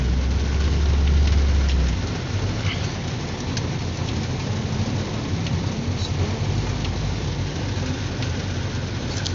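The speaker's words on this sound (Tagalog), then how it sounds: "Grabe, lakas ng ulan." Heavy rain pours steadily with a deep rumble of thunder at the start, the downpour continuing as a dense, even hiss.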